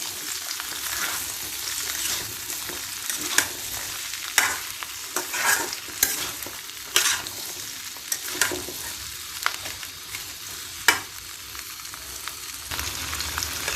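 Mango pieces sautéing in a pan for mango pickle, a soft steady sizzle broken by frequent scrapes and knocks of a stirring spoon.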